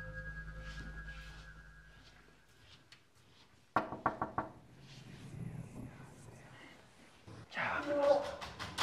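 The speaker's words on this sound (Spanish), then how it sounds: "Estamos con el equipo y nos acercamos a esa puerta y alguien tocó ahí." Knocking on a door inside a haunted castle: a quick cluster of sharp knocks rings out midway, preceded by hushed voices and a low hum, with people talking and exclaiming afterward.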